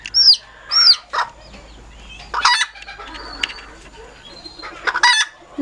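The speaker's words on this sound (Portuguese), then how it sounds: "Essa é uma choca muito bagunceira aqui, pra deixar nesse viveiro menor." A broody hen clucking with other chickens in a small aviary pen, loud near squawks and clucks in bursts, some wing flapping and rustling between calls.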